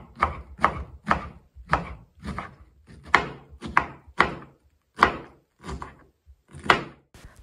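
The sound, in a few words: knife finely chopping cabbage into small squares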